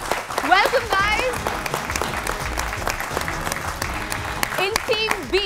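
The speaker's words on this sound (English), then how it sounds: "Give them a round of applause, guys." Applause from a quiz show audience after contestants from a senior secondary school in Rajasthan are introduced, steady clapping throughout with a host's voice and cheering over it.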